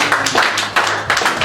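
Clapping at a birthday celebration, a group of hands beating in an uneven rhythm at close range, swelling and dipping over a short span.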